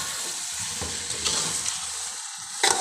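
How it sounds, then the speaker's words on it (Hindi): Water splashes into sizzling egg and chicken curry in a hot pan with a steady sizzle and frying hiss, punctuated by a few brief bursts of stirring near the end. "अभी ये थोड़े से पानी डाल रही हूँ।"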